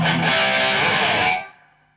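An electric guitar plays through stacked distortion pedals, a thick saturated chord ringing loud and close before decaying away in the last half second.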